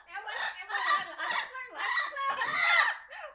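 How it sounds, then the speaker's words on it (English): Parrots squawk and screech in repeated harsh, loud bursts close by, several calls in quick succession with brief gaps between them. "Oh, they'll start yapping. Oh, the birds are here."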